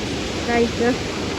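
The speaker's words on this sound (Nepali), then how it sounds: "यस्तो राम्रो छ हेर्नु झरना" Gairibari waterfall, a swimming spot, gives off a steady, full rushing roar that fills the whole stretch, with a nearby voice speaking over it.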